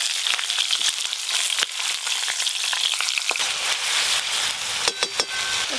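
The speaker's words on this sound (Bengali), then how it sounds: "সর্ষের তেল, যে কাতলা মাছের মাথাটা এবার ভেজে নেবো।" A catla fish head fries in hot mustard oil with a dense, continuous sizzle and scattered sharp crackles and pops, close and steady.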